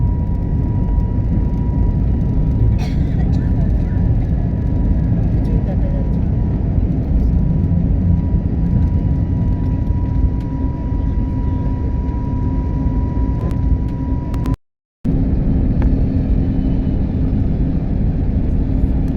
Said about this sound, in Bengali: এবার আমরা ল্যান্ড করছি।